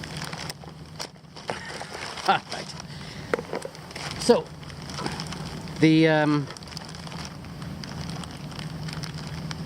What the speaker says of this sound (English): Oh, it's now started to rain.